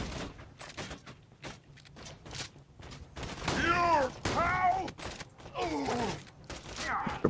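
Borderlands 2 gunfire in a co-op session, bursts of shots and impacts repeating irregularly through the clip, with players' voices and groans mixed in over the combat.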